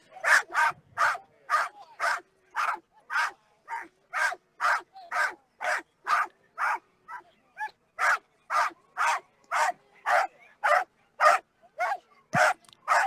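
Dog barking at a dog competition, a long run of loud, sharp barks in a fast, fairly regular rhythm, close to the microphone with little else heard.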